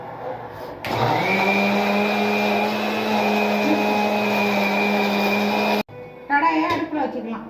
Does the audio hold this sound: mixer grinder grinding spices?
yes